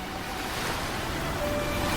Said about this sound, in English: I've come here to look up at the stars and listen to the waves